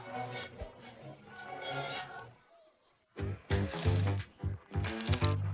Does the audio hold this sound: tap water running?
no